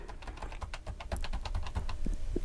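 Quick, uneven clatter of typing on the tactile, long-travel keyboard of a 1994 Toshiba laptop, close and distinct key clicks in a steady flurry.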